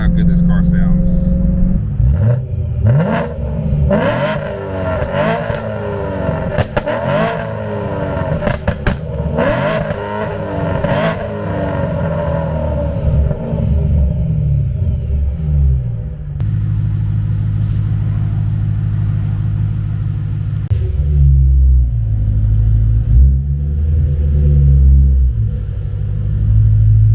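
A BMW M3 engine with a suspected drive-shaft vibration from a worn center support bearing or guibo rumbles and revs while driving, rising and falling through the gears before settling into a low, steady drone, with talk mixed in.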